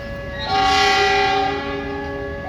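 A passenger train at a station is pushed backward during a switch change, giving a loud, sustained horn blast over rolling rail noise for a couple of seconds.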